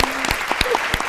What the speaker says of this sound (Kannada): ಸರ್ ಚಪ್ಪಾಳೆ ಹೊಡಿತಾ ಇದ್ದಾರೆ.